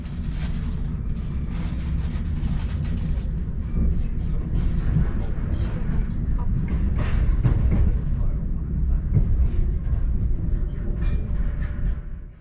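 A CrossCountry InterCity 125 diesel train pulls out of Bristol, a steady loud rumble of engine and wheels heard from on board with light rattling throughout.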